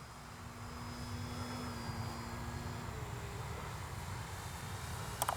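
An RC Dynam DHC Beaver V2 model airplane drones steadily overhead, its propeller motor holding a constant hum that shifts slightly in pitch, heard fairly close with a brief rustle at the end.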